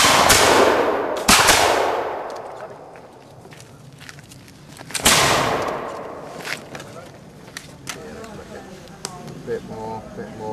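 Actors on a film set fire blank guns in pairs, sharp loud cracks at the start, again near one second and at five seconds, each with a long ringing decay, then footsteps and movement under crew voices.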